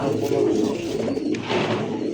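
Chocolate-faced pigeons for sale at a market coo nearby, low throaty rolling calls overlapping steadily, with faint background bustle.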